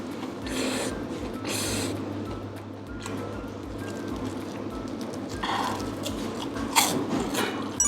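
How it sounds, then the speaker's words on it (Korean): Crunchy boneless fried chicken is bitten and chewed close to the mic, with repeated crisp crunches and wet chewing in an irregular rhythm, plus a few breaths and no talking. "이 후라이드 순살이랑 같이 먹습니다"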